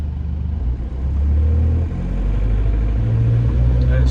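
A Volkswagen BEW TDI diesel engine with an AW4 automatic transmission and stock torque converter idles around 700 rpm after being dropped into gear, a steady low rumble that holds loud and even throughout.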